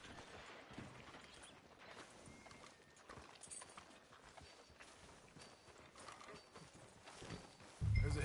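Horse hooves clip-clopping steadily through a Red Dead Redemption town street, a moderate walking rhythm over ambient game background, with a louder burst of noise at the very end.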